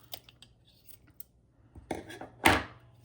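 Scissors snip through crochet yarn to cut 12-inch fringe pieces, a few faint clicks first, then two or three brisk, close cuts, the last one loudest.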